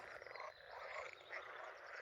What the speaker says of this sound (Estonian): konnad lasevad ringi, väiksed kullesed